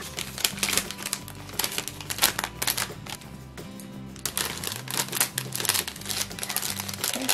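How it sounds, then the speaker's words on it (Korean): A plastic bag crinkles and rustles continuously as strawberry mochi, rice cakes filled with sweet red bean paste, are wrapped one by one; the sound is close and busy, with short rhythmic crackling bursts. "비닐봉지입니다."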